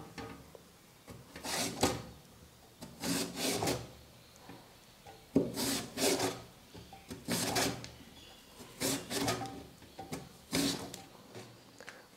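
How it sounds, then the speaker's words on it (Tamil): A raw sweet potato is drawn over a kitchen slicer into long strips, making close, rhythmic scraping and grating strokes in bursts with short pauses between them. "இப்போ இதை வச்சு சர்க்கரைவள்ளி கிழங்கை நம்ம ஸ்லைஸ் பண்ணி எடுத்துக்கலாம்."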